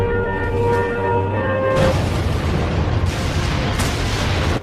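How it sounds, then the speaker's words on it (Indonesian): Heavy naval artillery from the battleship Yamato's main guns, a deep sustained roar and rumble with several sharp booming bursts layered on top, loud and close, with no voices. "serangan meriam utama langsung diluncurkan."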